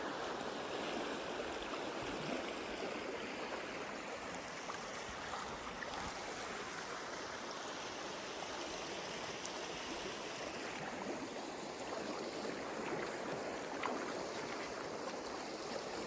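A Montana river in the Bitterroot Wilderness near a campground flows in a steady, broad rushing wash of water, continuous and moderately distant, with no voices over the constant noise.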